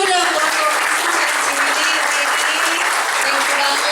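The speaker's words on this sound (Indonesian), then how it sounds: "kita kasih tepuk tangan dulu dong" Continuous applause from an audience at a talk, dense clapping at a steady loud level, with voices and cheering mixed into the sound.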